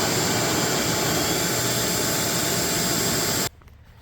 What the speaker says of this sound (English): Alright, I'm gonna hook the vacuum up and see what we can do.